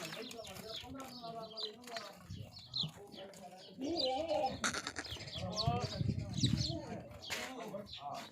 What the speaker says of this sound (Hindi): एक से बढ़कर एक बकरा मौजूद है